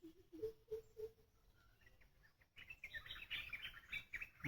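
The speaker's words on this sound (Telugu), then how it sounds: "చూడండి పక్షులు ఎలా అరుస్తున్నాయి" Birds chirp at dawn in a forest during a camping trip, giving faint, scattered tweets and trills, some lower and some high and twittering, with no one talking.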